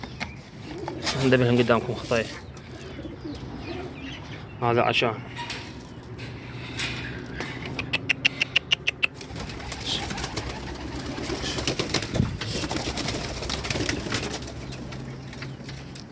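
Pigeons in a backyard loft coo softly and flap their wings in quick bursts, mixed with other bird calls, while someone talks over them.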